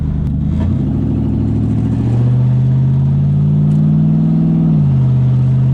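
An LS-swapped Jaguar XJ-S drives through a residential area, its V8 rumbling steadily and then rising in pitch as it accelerates before settling back, close and fairly loud, with no one speaking.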